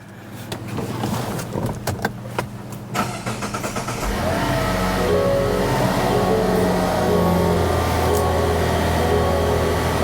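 A Mazda CX-90 cranks over and starts after a spark plug replacement, with a short burst of cranking noise giving way to a steady, continuous engine idle that stays loud and close for the rest of the clip.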